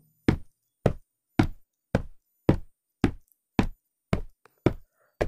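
Evenly spaced footsteps, about ten hard single steps at a steady walking pace, crisp and close against silence.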